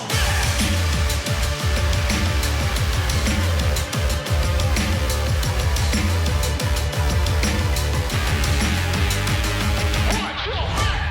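EDM track with a guitar riff plays loud and dense throughout, driving beats and bass under layered synths and guitar, cutting off abruptly near the end.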